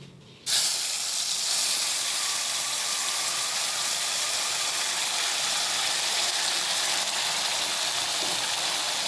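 A sharp, loud sizzle bursts up as spice paste hits hot ghee with asafoetida for an onion- and garlic-free paneer kofta curry, then settles into a steady, close hiss of frying for several seconds.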